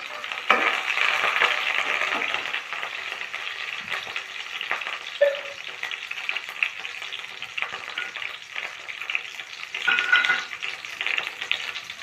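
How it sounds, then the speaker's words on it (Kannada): Curry leaves and golden-browned onions frying in hot oil, a loud crackling sizzle that swells and settles with bursts of popping and a couple of faint utensil clinks. "ಈ ಥರ ಇದೆಲ್ಲ ಇದರಲ್ಲಿ ಆಯಿಲಲ್ಲಿ ಚೆನ್ನಾಗಿ ಫ್ರೈ ಆಗ್ತಾ ಇದೆ"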